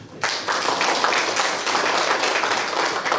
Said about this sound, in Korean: 우리 박기조 총장님한테 박수 한번 주십시오.